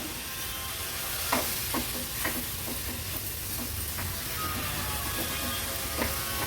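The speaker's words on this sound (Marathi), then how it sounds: "नंतर अगदी अर्धा चमचा वेलची जायफळ पूड व्यवस्थित मिक्स करून घेते" Mango and coconut karanji filling with dry fruits and cardamom-nutmeg powder is stirred in a pan over a gas flame: repeated scraping strokes at an uneven rhythm over a steady soft sizzle, close and moderately loud.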